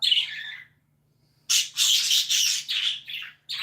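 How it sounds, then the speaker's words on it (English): Lovebirds, small parakeets, chirp and squawk in bright, harsh bursts, one short call followed after a pause by a longer run of chattering calls, close and fairly clear with no voices. "the lovebirds here are little parakeets, or just, kind of small parrots"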